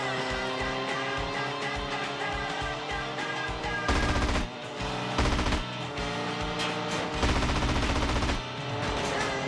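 Rapid automatic gunfire rattles in bursts during a courier-vehicle chase in GTA San Andreas, the salvos cutting through steady music that runs underneath the whole time.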